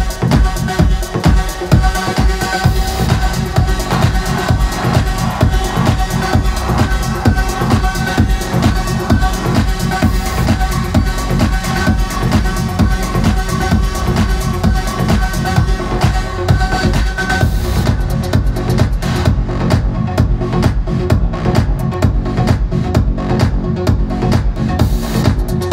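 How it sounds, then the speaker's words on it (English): Two trance tracks, beatmatched in the same key, play as one steady loud club mix with a driving four-on-the-floor pulse and a dense bass line that runs without a break. "What you're hearing is this track and this track mixed together."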